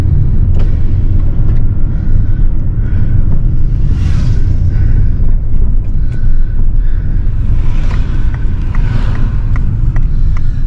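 A car engine runs steadily and loudly in the foreground throughout, a continuous low rumble with faint background sounds above it.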